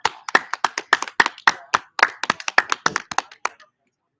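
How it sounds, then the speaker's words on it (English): Sparse clapping greets freestyle performer Geronimo Mooney, a few close, sharp hand claps in an uneven rhythm that thin out and stop, leaving near silence at the end. "Round of applause for Geronimo Mooney."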